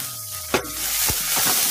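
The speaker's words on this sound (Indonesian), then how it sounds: "Dan saya akan menggoreng bawang putih." Crushed, chopped garlic sizzles steadily in hot oil, with a few sharp clinks of a utensil stirring the pan.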